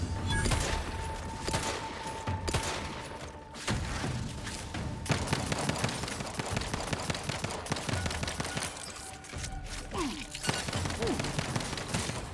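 Rapid gunfire in the shooter game The Outer Worlds 2, sustained bursts as a magazine is emptied, with thuds and impacts mixed among the shots and faint game sounds around them.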